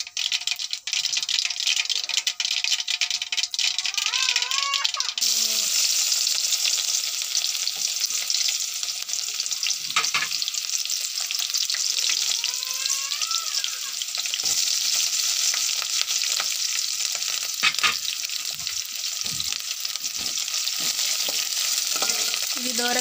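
Onion pieces and green chillies frying in hot oil for Telugu pesara gudalu, a continuous bright sizzle with occasional stirring scrapes and clatter, close and loud throughout.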